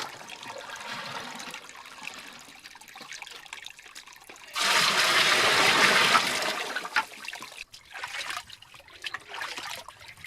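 Water runs from a garden hose through a 3/4 inch fitting into an improvised trashcan manifold, a faint trickle that swells midway into a louder rushing gush, then falls back to irregular splashing.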